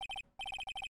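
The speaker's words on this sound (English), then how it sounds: "Hey Nick, your cell phone's ringing." Cell phone ringing in the Phoenix Wright: Trials and Tribulations game, a quick electronic ringtone of repeated bright beeps in short bursts with one brief gap.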